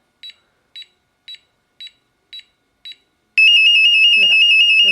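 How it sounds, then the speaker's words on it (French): A Nanny baby movement monitor emits six short, evenly spaced beeps, then switches to a loud continuous high-pitched alarm tone, with a voice speaking briefly underneath. "l'alarme qui est beaucoup plus forte"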